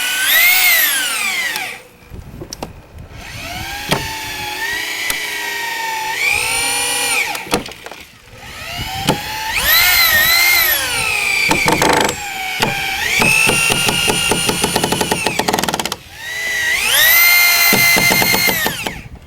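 A power drill drives 3-inch screws through wood into a halfpipe's deck cross-support studs. Several loud, close bursts of whining motor rise and fall in pitch as each screw spins in, with short pauses between and no talking.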